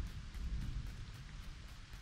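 Rain falls in LEGO Fortnite as a soft, constant patter and hiss with a low rumble beneath, faint and steady and with no voices.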